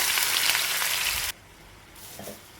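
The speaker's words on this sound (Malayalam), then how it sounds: "സവാള ചേർത്തിട്ട് നന്നായി ഒന്ന് വാട്ടിക്കൊടുക്കുക" Sliced onions sauté in hot oil with cinnamon for chicken biryani, giving a loud steady sizzle that cuts off abruptly midway and returns faintly, with a few soft stirring scrapes.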